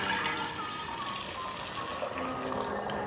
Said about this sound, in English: I'm just gonna take this strainer and this big jar and filter it through